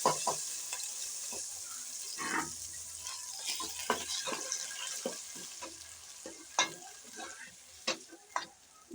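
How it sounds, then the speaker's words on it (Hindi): Tomatoes fry in a pan for pizza sauce on top of ginger-garlic paste, a soft continuous sizzle with scraping stirs and a few sharp clinks of a spoon, close but quiet, without talking. "अब हम ये टमाटर भून लेंगे।"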